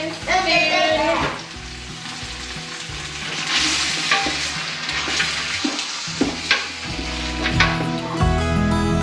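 Onion frying in a pan and being stirred with a wooden spoon, steady loud sizzling with scraping stirs and a few clatters, close by throughout.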